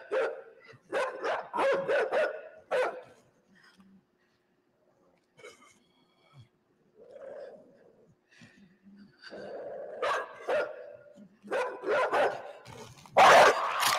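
Dog in the game INSIDE barking in loud repeated bursts near the start and again later, separated by a quiet stretch with a few faint sounds, and someone speaks at points.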